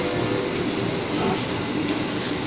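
Steady, loud rumble of a KRL commuter train in motion heard from inside a carriage, running between Manggarai station and Bukit Duri depot in Jakarta, with rolling wheel noise and faint squeals throughout.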